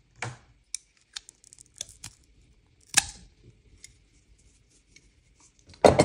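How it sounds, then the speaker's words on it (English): Rope for a garage kayak and bike hoist is cut in a quiet room. Sharp, isolated snips and clicks come at irregular intervals, followed by a brief louder burst at the end. "So we'll cut three ropes."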